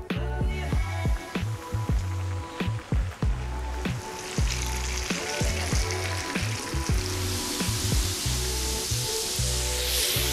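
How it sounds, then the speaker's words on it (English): Battered sliders drop into hot oil and fry with a loud, steady sizzle and bubbling that fills the whole stretch, crackling more intensely toward the end, with no voices over it. "I'm gonna drop these bad boys in the hot oil."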